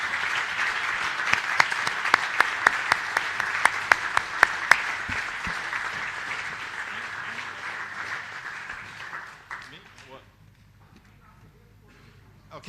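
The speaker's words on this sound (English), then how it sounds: "I'd like to do a big round of applause, not just for our finalists, but everyone" Applause for finalists at an agriculture big data convention: sustained crowd clapping with a few sharp, regular claps near the front, fading out after about ten seconds into quiet room tone.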